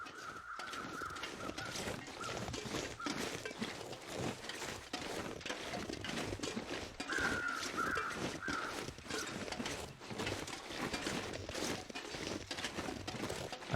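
Crows caw in the snowy wilderness of The Long Dark survival game, a few harsh calls rising over a steady windy ambient bed at moderate distance.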